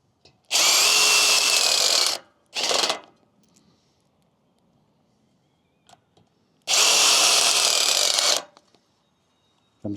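A power drill drives screws into an aluminum fence panel in two long, loud bursts, with a brief whir between them and another short start at the very end.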